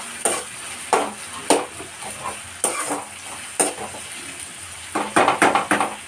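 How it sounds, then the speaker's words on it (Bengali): Onions cooking in a pan with salt for a prawn chicken dum biryani, stirred in repeated sharp scrapes over a steady close sizzle, with no talking. "এবার আমি ভালো করে পেঁয়াজটাকে নাড়বো।"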